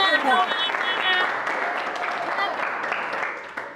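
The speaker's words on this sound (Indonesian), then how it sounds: "tepuk tangan dulu buat semuanya" Classroom applause for all the pupils, a steady wash of small hands clapping together for nearly four seconds, fairly close and even, thinning slightly toward the end.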